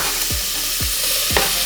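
Onions hit hot olive oil in a pan with a steady, bright sizzle, punctuated by a few low thuds or knocks as pieces are stirred, close and loud with no talking.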